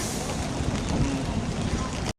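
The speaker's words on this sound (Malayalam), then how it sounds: "കനത്ത മഴയും കാറ്റുമാണ്," Heavy rain and gusting wind sweep over a Ghatkopar overbridge in Mumbai as a loud, continuous broadband wash that cuts off abruptly.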